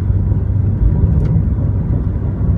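A 2012 Mitsubishi Lancer GT-A 2.0 with a CVT accelerates hard, giving a steady, loud low engine drone that holds one continuous tone with no gear-shift breaks, heard from inside the car.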